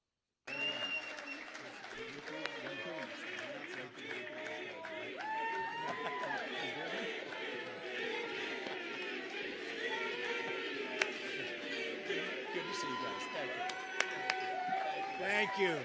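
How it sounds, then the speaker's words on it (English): A large crowd cheers and applauds continuously, loud and dense, with shouts and whistles rising throughout. "you got to hear how the crowd feels now that he's joined Trump"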